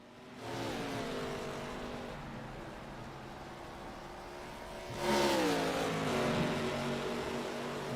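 ARCA Series race cars roar through the braking zone after the carousel, one steady engine drone that jumps louder and higher partway through as another car closes in, with no voices over it.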